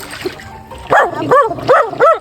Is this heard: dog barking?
yes